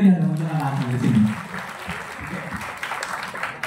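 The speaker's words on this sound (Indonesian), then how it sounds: "berikan tepuk tangan yang meriah dalam acara di sini" A seminar audience at a public speaking event applauds in a steady wash of clapping that follows a host's spoken words and continues to the end.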